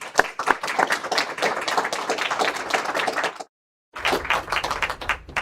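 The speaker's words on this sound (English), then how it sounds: "So give him a round of applause" A round of applause at a National Reconciliation Week event, dense and steady hand clapping from a crowd, breaking off briefly into silence before the clapping resumes.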